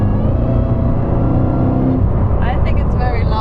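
Loud, steady engine roar from a matte Mercedes SLR McLaren 722 S, droning continuously close by, with a voice speaking over it near the end.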